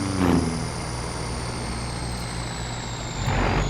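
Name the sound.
Dodge truck engine in video game Farming Simulator 25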